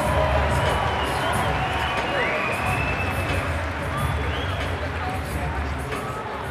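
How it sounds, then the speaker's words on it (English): Crowd at a UK vs USA boxing event cheering and applauding the two boxers after the final bell, a continuous roar of voices and clapping with shouts rising over it, while an announcer's voice carries above the noise. "Ladies and gentlemen, a round of applause for these two warriors."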